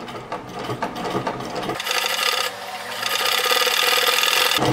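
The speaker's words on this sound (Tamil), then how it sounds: "இந்த சைட் நம்ம தையல் போட்டு முடிக்க போகிறோம்." A sewing machine stitches the seam of a frill pillow cover made from old tops. It starts in after a quieter opening and then runs in a steady, close mechanical whir with a fast rattle, broken by one short pause.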